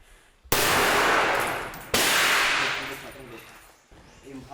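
Two loud rifle volleys fired on command crack out about a second and a half apart, each a sharp broadband blast that decays slowly with echo, followed by a faint trailing noise.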